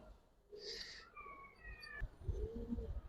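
Racing pigeons coo softly nearby, a few low throaty calls amid quiet background noise and a short bright chirp.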